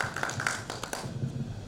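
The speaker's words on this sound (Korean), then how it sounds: "믿으면 한번 박수 한번 부탁드리겠습니다" A Korean Dental Association presidential candidate election forum audience claps briefly; a quick patter of scattered applause starts moderately and thins out within about a second and a half.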